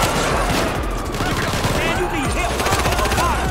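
Rapid bursts of machine gun fire rattle through a GTA 5 bank robbery shootout, dense and continuous with overlapping shots and a faint voice in the mix.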